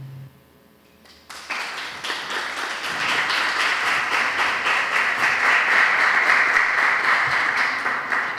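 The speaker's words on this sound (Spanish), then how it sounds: "la gente que aplaude la conferencia antes que la den" An audience at a lecture by Professor Luis Britto García breaks into applause after a brief quiet start, swelling into steady, dense clapping from a full room that continues to the end.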